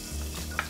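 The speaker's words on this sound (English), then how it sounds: "There, that's the sizzle you want to hear. That's when you know your oil's hot enough." Chopped garlic hitting hot oil in a pan while a corn and tomato sauce is started, giving a short, faint sizzle with a small crackle near the end.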